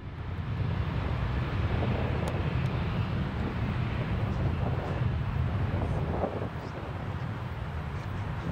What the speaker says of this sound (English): The plane taxied to the runway and hit the gas.